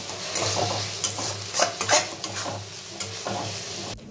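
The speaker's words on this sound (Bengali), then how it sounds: "এবার ভালো করে মশলাগুলোকে কষিয়ে নেওয়া হচ্ছে।" Whole spices, cardamom, cloves and cinnamon sticks, fry with chopped tomato in a pan while being stirred, giving a steady close sizzle broken by scraping strokes of the spoon.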